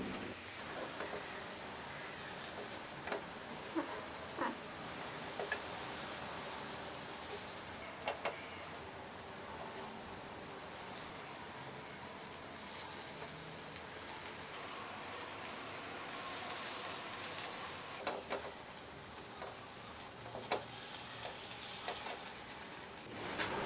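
Idli batter snack cooking in a pan over a medium flame, giving a steady soft sizzle and crackle throughout with a few small clicks, no voices.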